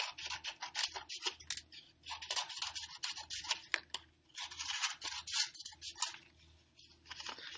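Scissors snipping through paper to cut a series of scrap strips for a craft of adding hair, with repeated crisp cuts and rustling at close range, no talking.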